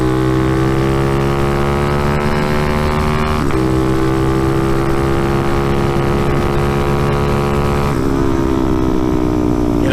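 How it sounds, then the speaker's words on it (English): A donked-out Chrysler 300 with a loud, droning engine revving and shifting gears as it drives by, the tone sliding upward through each gear, close and continuous. "Oh, we got a Chrysler 300 donked out."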